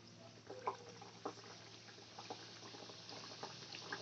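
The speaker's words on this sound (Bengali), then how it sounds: "এবার আমি ফ্রাই করে নেব।" Crab-shaped rolls frying in hot oil on a low-to-medium gas flame produce a soft, quiet bubbling with scattered small pops and crackles throughout, close but faint, with no speech.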